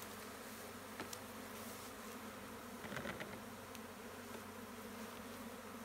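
Swarm of honey bees being recovered into a small hive box after swarming, a continuous dense buzzing close by, with a few light knocks and handling sounds, no talk.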